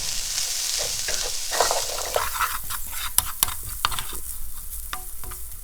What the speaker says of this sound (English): all our spices are all toasted up now